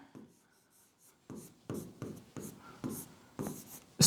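Pen scratching out an equation on paper, a run of short strokes growing louder and more regular, close and dry with no talking.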